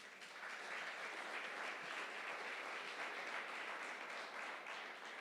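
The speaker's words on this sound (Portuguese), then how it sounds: "Você pode aplaudir ao Senhor por isso?" A church congregation applauds during a sermon, producing a dense, sustained wash of clapping from many hands that holds steady for several seconds without speech.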